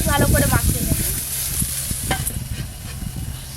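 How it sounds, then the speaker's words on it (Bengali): Garden broccoli fries in a pan with a soft sizzle under a series of close stirring clatters and knocks, busier at the start and thinning out toward the end. "ব্রকলি একটু ভালো করে ভাজা ভাজা হতে থাক"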